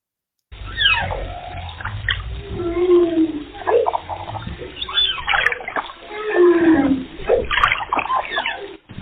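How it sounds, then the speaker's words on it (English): Humpback whale song recorded in the Indian Ocean: a continuous stretch of moaning, sweeping calls and rising and falling whoops over a low watery rumble, loud and unbroken for several seconds. "there's a short recording here of humpback song, which is from the Indian Ocean"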